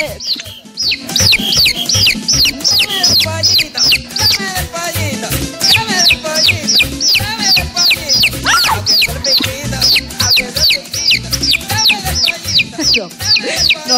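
Chickens and a chick chirp and cluck in rapid, repeated calls throughout, close by, while people talk and move around nearby.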